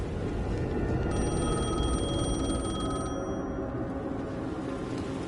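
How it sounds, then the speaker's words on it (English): A telephone rings in the video game Alan Wake 2, one shrill ring lasting about two seconds above a dense, low rumbling ambience that continues after it stops. "The phone was ringing again."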